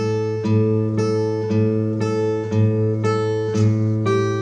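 A guitar plays a slow, steady repeating pattern of picked notes over a sustained low tone, clear and close with no talking.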